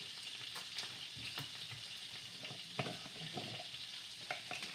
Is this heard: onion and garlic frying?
yes